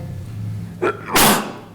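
One sharp sneeze bursts out close by during a finance committee meeting, preceded by a brief inhaled catch, then quiet room tone.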